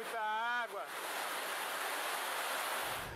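Floodwater rushing down a stairway in the Rocinha community of Rio de Janeiro, a steady loud hiss and roar of flowing water after a short burst of voice at the start.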